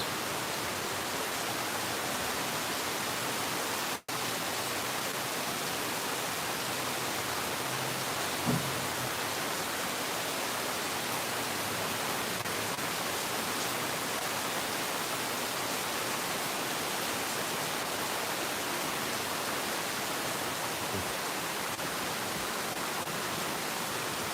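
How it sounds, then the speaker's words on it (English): Heavy rain pours down in a dense, steady hiss that stays constant and loud throughout, with a single sharp click early on and one faint thump partway through. "That's a lot of rain, y'all."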